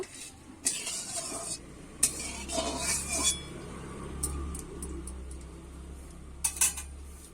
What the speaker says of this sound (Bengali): তেলটা আমি ভালো করে গরম করে নেব বন্ধুরা গরম হয়ে গেছে এবার আমি নেড়ে নেব